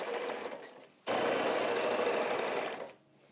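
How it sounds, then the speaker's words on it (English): A sewing machine stitches quilt binding in one steady, close, even run of about two seconds, starting sharply and stopping, with a faint hum before and after. "And then we just start sewing again."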